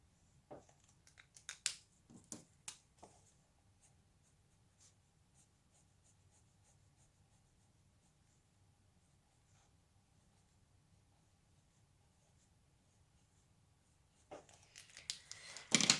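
Pen scratching over a doodle drawing of a mushroom on paper, several quick strokes at the start, then near silence, then a cluster of louder scratchy strokes at the end.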